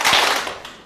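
Students in a lecture hall clap their hands together in one short, dense burst of claps that fades out within a second.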